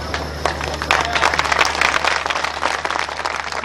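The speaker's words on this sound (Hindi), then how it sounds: "आप जुमलों पर ज्यादा ताली बजाते हैं" A crowd at the Baran Dol Mela mushaira breaks into applause, a loud, busy patter of many hands clapping that swells after a moment and keeps going over a low background hum.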